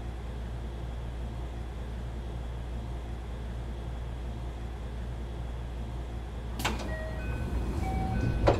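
Train doors on a JR 223 series commuter train close in a simulator, a sliding thud and pneumatic hiss arriving late over a steady low motor hum, followed by short chime tones.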